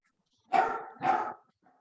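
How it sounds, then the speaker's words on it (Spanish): A fierce dog barks twice in quick succession, close and fairly loud, followed by a faint short yelp, with quiet surroundings otherwise. "por ahí hay un perro bravo"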